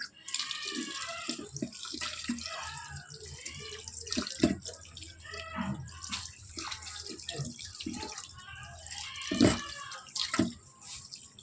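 A kitchen tap runs while raw chicken is washed under it. Close running and splashing water shifts in bursts as the meat is handled, with no talking.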